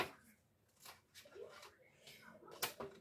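Tarot cards being shuffled by hand close up, giving soft papery riffles and slides in several quick bursts, with a sharper flurry near the end, all fairly quiet.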